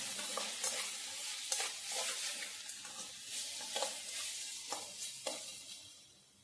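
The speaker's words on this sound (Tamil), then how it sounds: "நல்லா கிளறி விட்டுப்போம்" Masala for egg kothu chapathi sizzles in a pan under repeated stirring, with rhythmic scraping strokes over a constant bright frying hiss.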